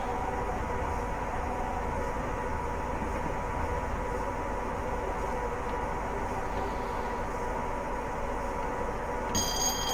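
Steady, continuous rumble of a Class 87 electric locomotive running at speed near 100 mph in Train Simulator Classic, with a broad even roar throughout and a brief higher whine near the end.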